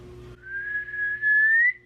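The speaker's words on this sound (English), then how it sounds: "You hit that pitch in your whistle" A single person whistles one sustained, slightly rising tone for under two seconds, close and clear, after a short moment of low background noise.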